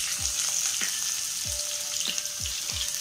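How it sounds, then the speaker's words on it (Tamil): Vegetables and green chilies fry in hot oil, with a continuous bright sizzle broken by several low thuds and scrapes as pieces shift and are stirred in the pan. "எண்ணெய் காஞ்சிச்சு, இப்போ காய்கறி போட்டுக்கலாம்"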